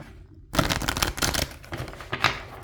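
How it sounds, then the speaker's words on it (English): Tarot cards shuffled by hand during a reading, a steady papery riffling and flapping that starts abruptly after a quiet half second and continues close and fairly loud. "and shuffle your cards."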